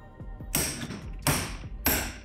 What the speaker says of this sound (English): See if you can hit that with a hammer